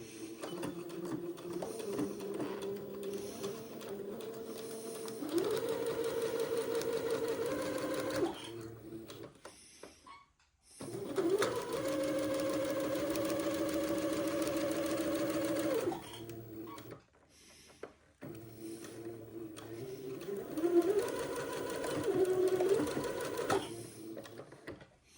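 A sewing machine stitches a seam on an Eton suit garment, 3/16 inch from the edge, in three steady whirring runs separated by short pauses, close and fairly loud with no talking.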